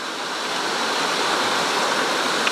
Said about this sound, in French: En direction de la cascade du bout du monde.